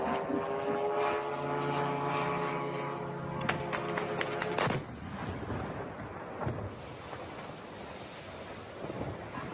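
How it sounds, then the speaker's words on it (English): A drone flying overhead in a conflict setting, heard as a loud, steady droning engine whine with tonal harmonics, followed by a sharp impact-like burst around the midpoint and a rougher, noisier rumble afterward. "I guess that's a drone."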